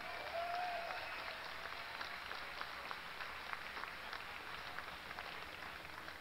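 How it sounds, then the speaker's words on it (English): A large crowd at BlizzCon 2010 gives dense, sustained applause for the StarCraft II champion, a steady wash of clapping with a faint distant voice briefly audible near the start. "Huge round of applause again to your champion, NEXGenius."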